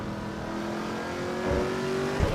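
Big Chevy V8 engine in a racing game, AC Evo or FH6, holding a steady droning note that swells slightly near the end, with a brief bump, heard alone.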